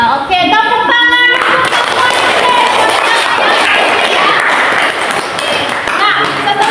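Classroom applause fills the room, dense and steady clapping throughout, opening with a brief ringing tone before the crowd noise takes over.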